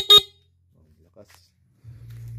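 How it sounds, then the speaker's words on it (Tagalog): A single short, sharp horn beep from a new horn on a Rusi KRY 200 motorcycle sounds loudly up close, followed by near silence and then a low engine hum. "So patunugin natin yung busina."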